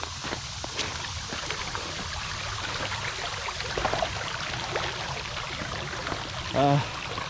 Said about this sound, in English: Bridge is still out, still have to cross the water.